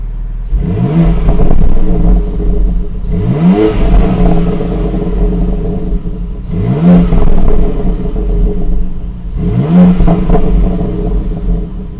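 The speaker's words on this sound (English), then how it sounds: "So before we depart, let's do some revs." A 2021 BMW X3 M Competition in its most aggressive engine and transmission mode, revved at a standstill in four loud, rising bursts, each climbing sharply and falling back to a deep, steady idle.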